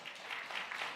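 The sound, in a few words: audience applause for two expectant mothers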